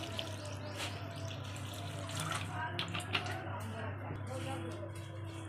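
A little water is poured into a banana flower mixture, a soft close trickle and splash over a steady background hum.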